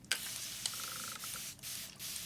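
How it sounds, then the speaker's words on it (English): Spray bottle of watery Fenty hair product misted onto damp hair, a few short hissing bursts close by with brief pauses between them. "So I'm gonna spray my hair."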